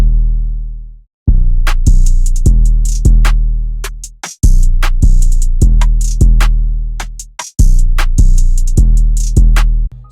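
A repetitive FL Studio beat driven by a simplified 808 verse pattern: booming sustained 808 bass notes decaying in a steady loop, punctuated by sharp hi-hat and snare hits, loud and with no voices.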